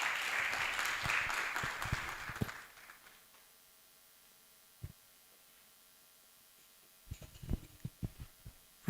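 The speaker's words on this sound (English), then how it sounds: "Let's clap for him as he comes." A short burst of workshop audience applause fades out within a few seconds, leaving near silence broken by a few soft knocks and bumps.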